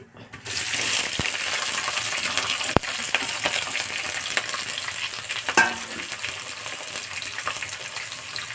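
Onion, green chili and curry leaves hit hot oil as tempering for an Andhra-style fish curry, a loud continuous sizzle and crackle with a couple of sharp metallic utensil clinks.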